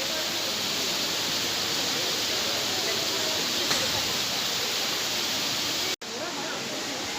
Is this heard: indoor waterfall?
yes